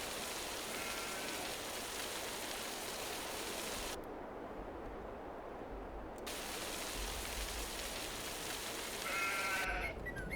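Sheep bleat in the farming video game Farming Simulator 22 over a steady rain-like outdoor wash, the bleats faint and intermittent near the start and end, with a brief drop in the background partway through.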